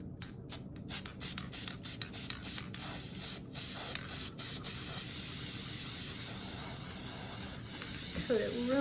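An aerosol can sprays paint onto a simple craft shape in a string of short hissing bursts, followed by a longer continuous spray, close by and moderately quiet.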